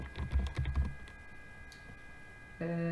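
Quick bursts of typing on a computer keyboard, a cluster of close clicks at the start that trails off, then a steady tone comes in near the end.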